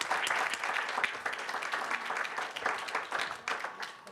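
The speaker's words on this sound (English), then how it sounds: "Why don't you give them a round of applause for joining us here this morning." Audience applause for guests at a morning show, a dense, steady round of clapping from a live crowd that continues for several seconds before tapering slightly.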